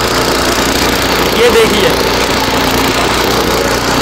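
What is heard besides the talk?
homemade mini tractor engine running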